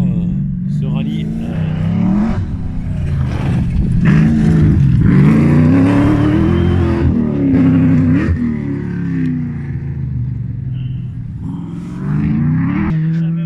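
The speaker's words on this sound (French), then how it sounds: "c'est le rallye historique de course avec le 205 GTI et voiture mythique de Sai Bruno" Peugeot 205 GTI rally car at a historic rally event in Vaucluse, engines revving and passing loudly over about thirteen seconds, with someone commenting over the noise.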